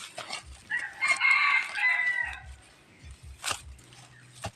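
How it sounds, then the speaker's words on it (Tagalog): A labuyo jungle fowl rooster crows once in the middle distance, a clear rising-then-held call lasting about two seconds, followed by a few soft thumps and scattered clucks from nearby birds. "Panitilaok mga idol yung labuyo dun sa kabila."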